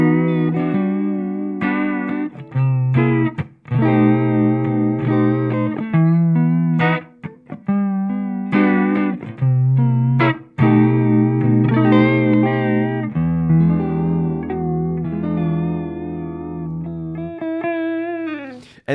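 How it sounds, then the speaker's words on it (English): An electric guitar played through a Hologram Microcosm pedal with deep, slow lo-fi modulation gives wobbling, warbly sustained chords and notes, phrased in a loose melodic line with brief pauses, loud and up close with no talking. "by putting a lot of depth, but not too fast for the modulation, we get a great lo-fi feel."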